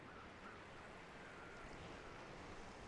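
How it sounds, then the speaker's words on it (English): Steady rushing water flows in The Long Dark survival game, a faint, constant broadband wash with no talk over it. "I do hear running water already."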